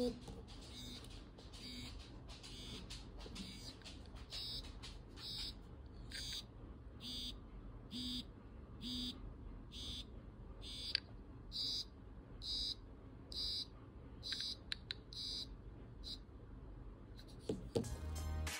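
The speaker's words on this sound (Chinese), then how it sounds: "在震动方面，我个人觉得这个力度是可以震醒大部分人的" A Xiaomi Smart Band 8 Pro alarm vibrating in rhythmic buzzing pulses that repeat roughly every second for a long stretch, quiet and close, over a soft background hiss.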